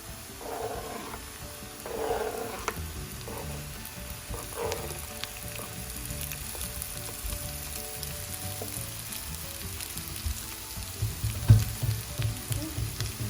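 Eggs slowly added to spices frying in a pan for Goan egg patties, a steady soft sizzle with occasional spatters and pops, quiet and close with no talk.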